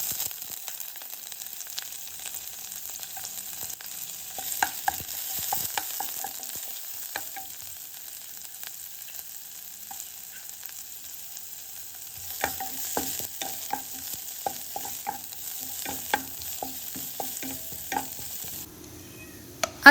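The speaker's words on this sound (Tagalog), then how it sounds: "dito tayo kukuha ng ating mantika para panggisa dito sa ating bawang at sibuyas. At isama na rin natin ang ating luya." Garlic, onion and ginger sautéing in cooking oil, a faint steady sizzle broken by scattered clicks and scrapes of stirring, growing busier in the second half.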